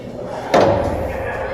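A heavy metal door handle aboard the Battleship Alabama clanks open with a sharp, ringing thud, the metallic resonance fading over the following second amid visitor chatter and traffic.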